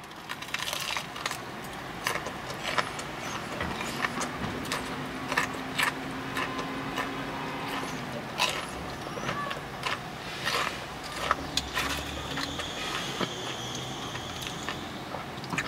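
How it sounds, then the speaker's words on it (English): Someone bites into a Popeyes fried chicken tender, making repeated close crunches and crackles with a faint background hum. "Can you hear the crunch on this tender?"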